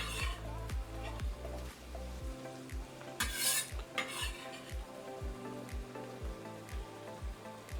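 Prawn basil pasta sauce being stirred in a pan, a utensil scraping and knocking against the pan in a steady rhythm over a soft, continuous sizzle, close and fairly quiet, with no talking.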